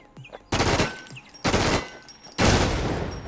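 Three loud bursts of automatic gunfire from a QBZ-95 rifle in BNG: Infestation, each a sharp, close volley separated by brief pauses, with no talking.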